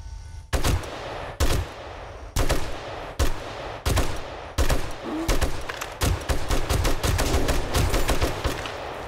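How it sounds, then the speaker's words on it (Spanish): Gunfire from a gun in the video game 7 Days to Die, loud sharp shots in short bursts and single cracks, roughly a dozen over several seconds, with no talk. "Disparo, trato de no disparar no tanta bala seguida"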